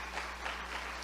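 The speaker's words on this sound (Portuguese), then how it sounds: "Aplauda o Senhor Jesus com todo o teu entendimento e toda a tua adoração." Church congregation applauding, a soft, distant, steady patter of clapping over a low constant hum, with no voices heard.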